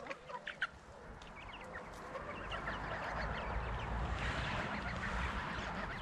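Chickens cluck and call inside a small backyard pen, a rooster-type male among them. Several overlapping clucks and squawks sound close and steady over a constant outdoor background, with no talking.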